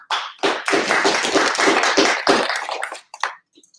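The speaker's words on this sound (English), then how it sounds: "Give yourselves a hand and applaud them out." A crowd at a networking breakfast claps in a dense burst of applause that swells briefly and then tapers off into a few scattered claps.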